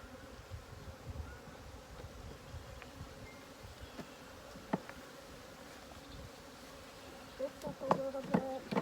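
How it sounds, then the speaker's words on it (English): Bees buzzing around a beehive, a faint continuous hum of many insects with brief louder passes and a few knocks near the end. "So I would say some of the bees are probably out and foraging now."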